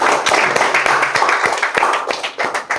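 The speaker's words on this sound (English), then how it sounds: "So let's have clap for Kritika" A group of people clap steadily, a dense burst of applause close by.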